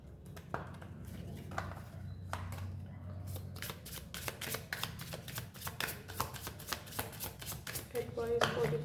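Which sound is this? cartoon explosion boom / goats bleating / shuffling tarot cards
shuffling tarot cards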